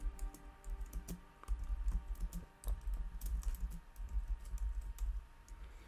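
Steady typing on a computer keyboard while entering text for an HTML marquee tag, with rapid irregular key clicks running throughout at close range and no voices.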